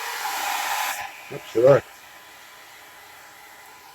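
A blow dryer used to dry off a pet blows with a loud, steady whoosh for about a second, then cuts off abruptly, followed by a brief spoken exclamation and quiet room tone.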